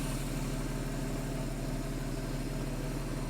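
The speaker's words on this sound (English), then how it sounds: "the engine is purring as it should" A car engine idles smoothly and steadily after a repair, a continuous low, even hum with no speech over it.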